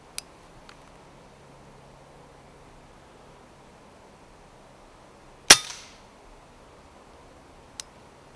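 A single sharp crack from an FX Impact MkII air rifle fired at a jackdaw rings out mid-clip, with a faint click before it and another small tick afterward, otherwise quiet outdoors.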